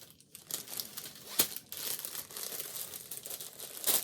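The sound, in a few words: rustling of a bag as fabric is put back in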